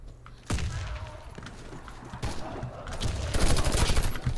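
Rapid bursts of ZX84C submachine gun fire in the Warface shooter game, sharp repeated shots that intensify toward the end, loud and close against game background noise.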